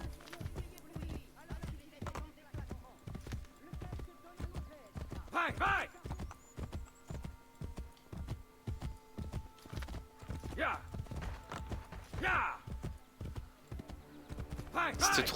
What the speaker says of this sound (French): Hyper satisfaisant le bruit du galop avec les sabots.